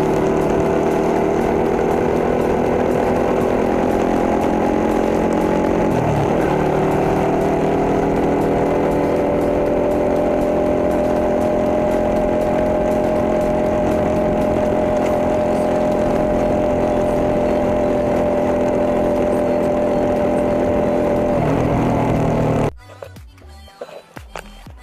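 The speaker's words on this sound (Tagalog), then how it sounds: "sobrang lakas ng bounce ng kadena kahit meron ng chain tensioner" A motorcycle chain bounces and slaps despite a Racing Boy chain tensioner, a loud continuous mechanical whir with a steady engine drone that dips briefly midway and cuts off near the end.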